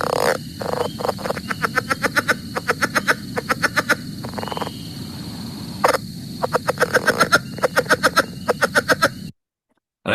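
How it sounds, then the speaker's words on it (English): Southern leopard frog (Lithobates sphenocephalus) breeding call: rapid, loud clucking pulse trains repeated in bursts across a night chorus, with other frogs faintly calling behind, then cutting to silence at the end. "Southern leopard frog. Lithobates sphenocephalus."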